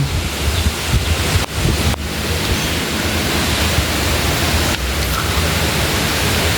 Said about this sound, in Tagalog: pero kusog gyud ang hangin